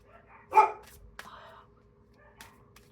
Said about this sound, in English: There's other dogs in the apartment at the back here.